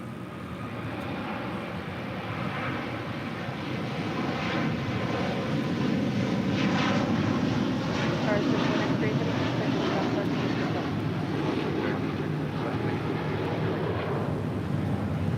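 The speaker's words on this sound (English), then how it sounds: "This is Qatar Airways Flight 742 departing to Doha on the A350-1000 in the One World livery." Qatar Airways Airbus A350-1000 in oneworld livery taxiing at LAX, its jet engines a steady, broad roar that builds slightly and holds, with a voice speaking over it.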